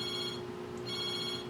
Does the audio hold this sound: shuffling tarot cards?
no